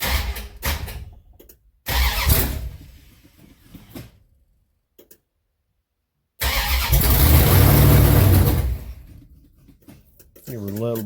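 A 1972 Dodge Charger V8 heard from inside the car as the starter cranks in bursts, pauses, then catches into a loud, sustained roar before settling, with a voice briefly audible near the end.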